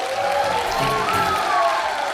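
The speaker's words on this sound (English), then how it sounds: "Please give him a big round of applause." A big round of applause rises from an audience at a public event honouring a guest, steady dense clapping filling the space with a faint crowd murmur underneath.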